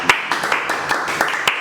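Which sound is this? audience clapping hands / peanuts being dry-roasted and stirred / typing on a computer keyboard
audience clapping hands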